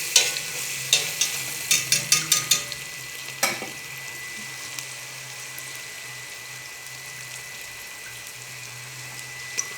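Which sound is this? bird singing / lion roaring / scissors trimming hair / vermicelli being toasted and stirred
vermicelli being toasted and stirred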